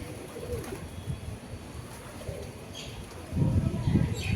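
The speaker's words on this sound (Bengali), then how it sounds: "এখানে অনেক পায়রা আছে।" Pigeons coo outdoors in a street setting in Puri, soft low repeated coos over a murmuring ambient background, growing louder and closer near the end.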